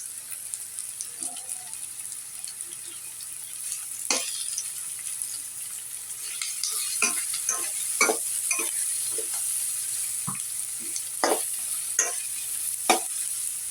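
Spices, ginger, garlic and green chilies for salted hilsa bhuna sizzle and are stirred in a pan, a soft steady fry broken by scattered scraping clicks of the spatula, no talk.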